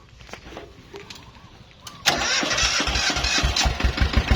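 A Japanese-imported tractor's engine cranks briefly, then catches and roars into a loud, steady, rough running rattle, close by with no talk.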